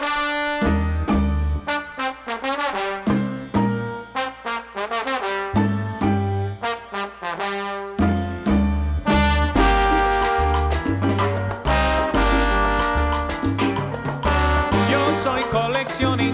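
Salsa song played from a recording, full band with bass, piano and percussion driving a steady danceable groove, loud and continuous with no talking.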